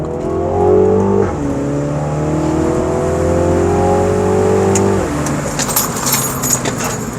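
A Mini Cooper JCW roars at full throttle, its engine note climbing steadily through the gears with a brief dip at a shift, loud and close from inside the car, with faint jangling of keys.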